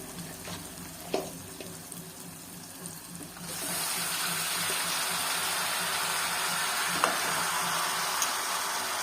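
Mutton hits a hot pan coated with ginger-garlic paste, and a steady, close sizzle starts a few seconds in after a quieter stretch with a few clicks, then holds at an even level.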